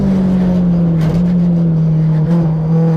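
A Mazda Global MX5 Cup race car engine drones loud and close from inside the cockpit, holding a steady note with a brief dip as it moves into a higher gear.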